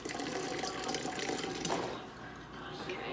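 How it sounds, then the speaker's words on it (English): Water runs steadily from a dispenser into a cup, a continuous splashing fill that changes pitch near the end as the cup fills up. "you can just fill up as much water as you want."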